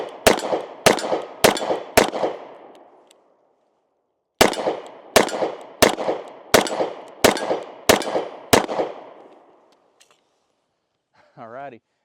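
Two close, loud bursts of shots from a Smith and Wesson CSX E Series pistol, four sharp reports then seven more in steady succession, each ringing out briefly with no talk over them.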